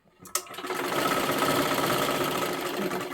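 After a brief click, a sewing machine starts up and runs steadily, stitching silky fabric lining along a marked line with an even, close, humming mechanical whir.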